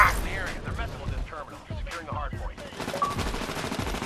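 Titanfall gunfire rattles in quick bursts of loud, close shots with echoing impacts, mixed with game effects and a voice talking over the action.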